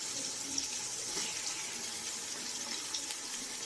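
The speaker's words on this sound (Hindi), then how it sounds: "चिकन को अच्छे से धो के" Raw chicken is washed under running tap water, a steady, fairly soft stream of splashing water with no voices.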